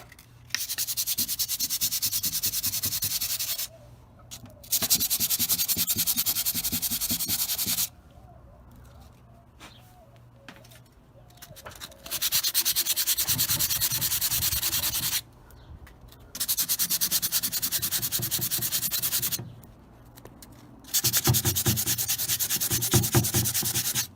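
Light sanding of wood putty on a salvaged furniture piece, five rhythmic bursts of close, steady scratchy rubbing separated by quiet pauses.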